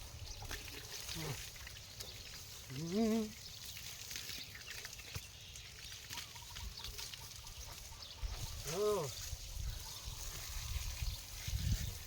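Water pours and splashes in short bursts as a chubby child is bathed in cold weather, faint and intermittent, with brief voices and background noise between pours.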